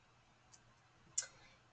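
A mouse clicks on a computer, one faint tick and then a sharper, louder click a moment later against near silence.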